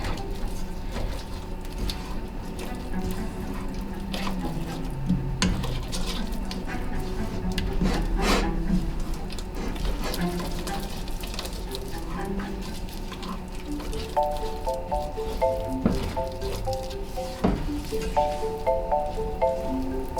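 Homemade Play-Doh is stirred in a pot as it thickens, giving a continuous scraping and rubbing with a few sharper knocks. Later a faint beeping pattern plays in the background.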